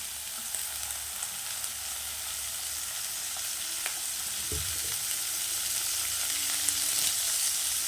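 Shallots frying in oil in a pan, a steady close sizzle with faint crackles and a brief stir partway through, no voices.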